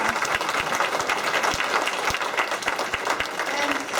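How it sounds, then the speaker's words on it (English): An audience applauds the costume crew, giving steady, dense clapping with a few sharp individual claps standing out over four seconds. "applause for the costume"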